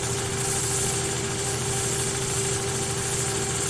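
A wood lathe spinning a cracked wooden vase blank, giving off a loud, continuous motor hum with a steady whirring drone and no voices.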